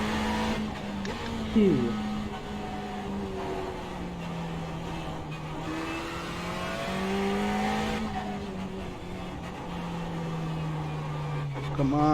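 A Ferrari 488 GT3 engine in iRacing drones loudly and steadily, pitch sweeping up and down with a brief tire chirp, while someone talks over it.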